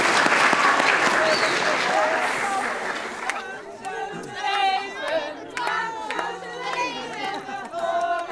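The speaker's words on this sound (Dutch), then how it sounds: "Applaus." A burst of loud audience clapping and cheering fades after a few seconds into excited crowd chatter and children's voices.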